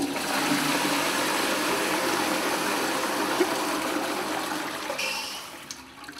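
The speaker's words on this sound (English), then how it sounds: "Rubber ducky, will it flush?" A toilet flushes with a rubber duck floating in the bowl, a loud rushing swirl of water that runs steadily for several seconds before tapering into a trickling refill.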